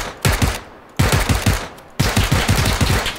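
Rapid automatic gunfire from the battle royale game PUBG (Battlegrounds) rings out in three loud, close bursts of repeated shots, each separated by a short pause, with no talking.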